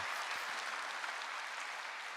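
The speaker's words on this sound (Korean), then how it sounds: "우리 한번 격려의 박수 부탁드립니다" Congregation at an Easter Sunday church service applauding the choir, orchestra and handbell team, a steady dense wash of clapping filling the room throughout, fairly soft and even, with no voices over it.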